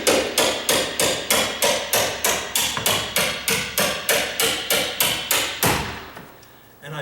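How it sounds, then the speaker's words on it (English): A door hinge pin is hammered out by striking electrical cutters clamped onto it, giving about sixteen evenly spaced metallic hammer blows at a brisk steady rhythm, close and loud, then stopping. "I'm just taking my electrical cutters, grabbing onto the pin, and using that to hammer on."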